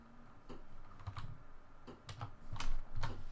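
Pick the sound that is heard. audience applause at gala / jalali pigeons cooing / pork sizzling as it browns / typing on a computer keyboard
typing on a computer keyboard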